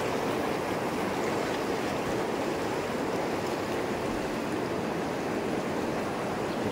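A big river rushes past with force, a loud, steady roar of churning water that stays close and unbroken throughout, with no voices.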